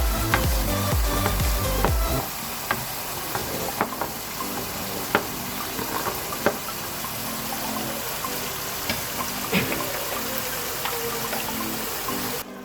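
Carrots and potatoes sizzle steadily in a hot pan, a dense continuous frying hiss with scattered pops and crackles, close and fairly loud throughout a mixed vegetable sabzi.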